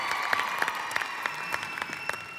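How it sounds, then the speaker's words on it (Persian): Audience clapping to welcome a Quran teacher onto the stage at a gathering, a dense, even round of applause from a crowd with sharp individual claps standing out throughout. "میکنم از جناب آقای محسنی، معلم و استاد قرآن، که با تشویق شما تشریف میارم."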